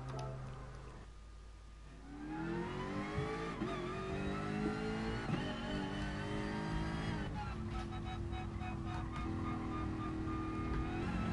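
A supercharged Jaguar F-Type engine in a video game revs up and holds a loud, rising engine note, with shifts in pitch as it accelerates and a change partway through, continuous throughout.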